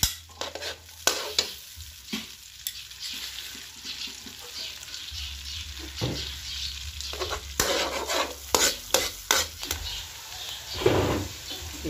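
Onion sautés in melted butter with a steady sizzle, broken by repeated scraping and stirring clatters from a utensil in the pan.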